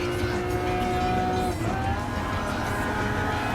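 A McLaren MP4-12C sports car races in Gran Turismo Sport with a steady, high engine whine. It climbs in pitch, dips briefly at a gear change and holds at close range, with faint talk at times.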